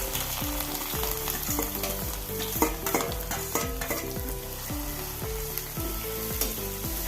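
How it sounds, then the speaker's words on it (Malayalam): Chopped mango fries in hot sesame oil, giving a loud, steady sizzle with repeated stirring scrapes and clinks throughout, close up and without speech. "എണ്ണ ചൂടായി ഇനി അരിഞ്ഞു വെച്ച മാങ്ങയും ചുറ്റി കൊടുക്കാം"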